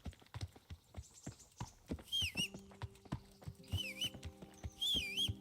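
Horse hooves clip-clopping at a brisk rhythmic pace in Kingdom Come Deliverance, close and distinct, with whistling tones and a sustained hum rising in the background.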